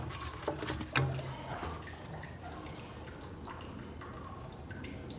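Water dripping off thoroughly soaked sheets of watercolor paper, a faint, scattered patter of small drips over a quiet room hiss, with one slightly sharper splash early on and no voices.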